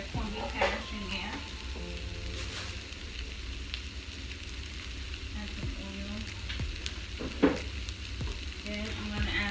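Libby's corned beef hash simmers in a frying pan with a steady, moderate sizzle and crackle. Occasional louder pops and a few light scraping stirs cut through, and no one speaks.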